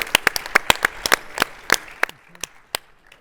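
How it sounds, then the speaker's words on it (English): Applause from an audience at a TechCrunch Disrupt 2025 startup pitch session, sharp separate claps ringing out fairly close in a sparse burst that thins out toward the end. "one more round of applause for Unlisted"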